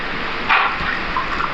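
Water poured into the block of an Isuzu D-Max V-Cross 4JK1 engine during an overhaul, a steady low splashing wash with a brief louder gush near the start and a few faint trickles after.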